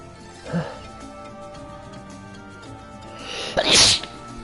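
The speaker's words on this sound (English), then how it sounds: "I gotta sneeze." A man sneezes during a game session, a short quiet intake early on followed a few seconds later by one loud sharp sneeze close to the microphone over faint game ticking.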